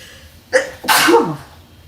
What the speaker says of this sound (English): Because I had to sneeze.